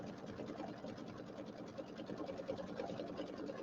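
An embroidery sewing machine stitches a quilt block held in a hoop, a fast, even mechanical chatter running quietly and continuously with no talk.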